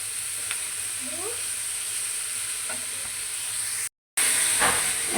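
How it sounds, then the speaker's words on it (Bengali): Cauliflower florets sizzle in a hot pan with turmeric and salt, a steady frying hiss with a few soft stirring scrapes, a short break, then louder sizzling at the end. "এই যে হলুদ দিয়ে আমি দুটো ফুলকপিটা ভালোভাবে মিক্স করে নিচ্ছি।"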